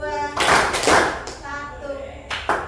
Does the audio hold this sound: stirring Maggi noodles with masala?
no